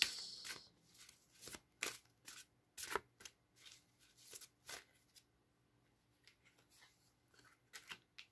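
A deck of oracle cards is shuffled by hand in a quiet room, making a string of soft, quick riffling and slapping bursts in an irregular rhythm, close and faint.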